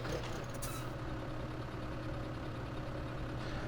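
Tractor engine idling steadily in Farming Simulator 17, a continuous low rumble with a faint hiss, heard alone with no talk.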